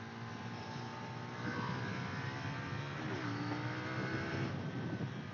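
A KTM Duke 890 R with a parallel-twin engine is ridden on the road, its engine a continuous buzzing drone with shifting pitch that rises and falls as it revs.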